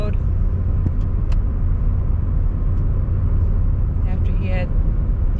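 A truck driving down a snowy road after a blizzard, its engine a steady low rumble heard close and continuously, with faint voices underneath.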